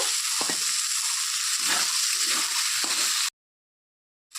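Chopped tomatoes drop into a hot pan of frying spice paste for vegetarian aloo dum, giving a loud steady sizzle with a few stirring knocks before cutting to silence.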